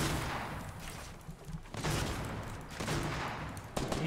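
Dense, continuous gunfire from a Fortnite squads battle royale match rattles on for several seconds, loud and overlapping bursts with no pauses and no voices.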